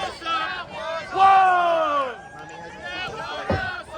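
A live wrestling crowd at an indoor independent show chants in unison, rising and falling in rhythmic bursts with whoops, while a commentator's voice sits over the noise.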